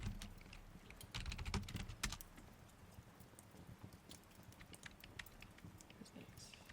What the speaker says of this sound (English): Should I stop talking and then you guys can listen just to the typing?